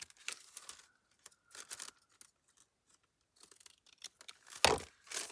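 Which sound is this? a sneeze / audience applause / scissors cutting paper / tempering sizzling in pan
scissors cutting paper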